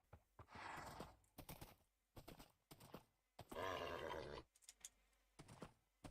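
A Minecraft horse whinnies and snorts in a string of short game-sound bursts, including one longer drawn-out neigh, separated by brief quiet gaps.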